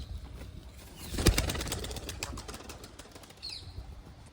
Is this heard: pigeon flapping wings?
yes